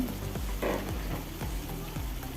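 Slit green chillies frying in a pan, a steady close sizzle with bursts of crackling spatter over about two seconds, no voices.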